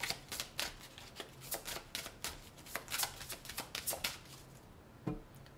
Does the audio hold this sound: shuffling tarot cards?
yes